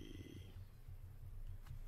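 A person imitates snoring in a Minecraft flat world: a few low, rasping snore pulses, soft and close, repeating in short bursts.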